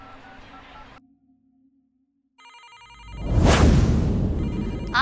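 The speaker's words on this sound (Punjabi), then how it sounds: "ਆ ਕਿਹਦਾ ਫੋਨ ਵੱਜੀ ਜਾਂਦਾ?" A mobile phone ringtone rings in a home, a short tonal ring that stops, a gap of near silence, then a busier ringing melody with a loud rushing swell over it.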